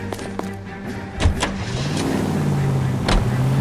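Car in the L.A. Noire game starting off and driving, engine note rising and settling as it pulls away, with a few clunks early on, steady and fairly close.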